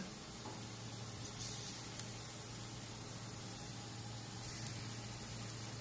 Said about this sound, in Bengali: দেখো আমি গ্যাস জোরে দিয়ে দিয়েছি, সবগুলো ফুটছে ভালো করে।